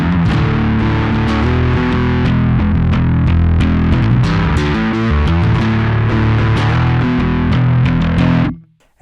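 Sterling by Music Man DarkRay bass guitar playing a riff with lead-in and mid-riff licks, thick sustained low notes with bright plucked attacks, loud and close, running continuously before cutting off at the end.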